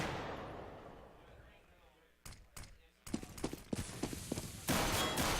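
Five-seveN pistol shots crack out in CS:GO during a tournament match, a few sharp isolated bangs followed by a denser flurry of gunfire and impacts, loud and close.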